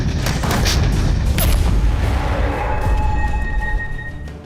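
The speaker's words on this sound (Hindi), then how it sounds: "बोफोर्स तोप हाई और लो दोनों ही एंगल में फायरिंग करने में सक्षम है" Bofors artillery gun firing at high or low angle, a loud, dense booming blast with rumbling reverberation that fills the whole clip and slowly fades, no voices.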